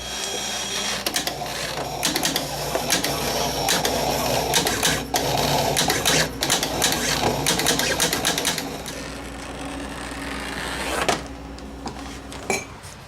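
A computer-driven vinyl cutter slices a lettering stencil into rubber for sandblasting a carved stone, giving a steady mechanical whir with rapid stepping chatter and clicks that run continuously for the whole stretch at close range.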